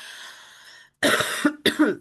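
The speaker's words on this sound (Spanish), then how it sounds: "es como una tos seca" Two or three sharp, dry coughs close by, following a short stretch of faint hiss, each burst harsh and breathy with no wet rattle.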